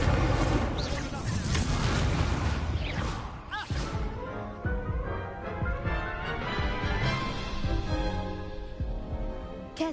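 Incendio fire spell cast in the video game Hogwarts Legacy, loud booming bursts of flame and explosive impacts rolling over several seconds amid dense battle noise, with a voice speaking over it.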